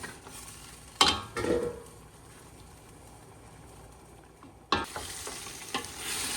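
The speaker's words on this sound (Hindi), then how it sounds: "तो देखें जैसे हमारा गोश्त मसाले के साथ अच्छी तरह से भून रहा है" Beef korma meat frying in masala, with a quiet sizzle and stirring scrapes in the pot; two sharper bursts of spoon-against-pan clatter stand out from the low cooking hiss.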